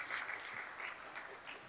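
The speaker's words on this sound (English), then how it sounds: "You're already getting claps" Brief burst of audience applause at a tech forum, a steady patter of many hands clapping at moderate volume, fading slightly toward the end.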